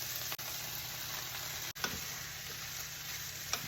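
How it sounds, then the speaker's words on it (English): Ground beef, diced tomatoes, onions and peppers sizzle steadily in a skillet for Tex-Mex enchilada filling, a constant close hiss broken by a couple of brief stirring knocks. "We're going to let this mixture cook for about 2 minutes."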